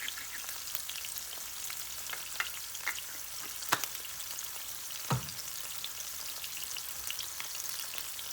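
Sandwich filling frying in a pan with crushed red pepper flakes, a steady soft sizzle broken by a few crisp pops and one louder clack of a utensil, no voices.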